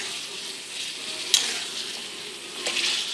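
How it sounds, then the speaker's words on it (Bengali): Mutton sizzles in a pan as it is stirred and fried, with a soft continuous crackle and occasional scrapes of the spoon, close and steady with no talking. "খুব ভালোভাবে এটা নাড়াচাড়া করে কষাতে হবে।"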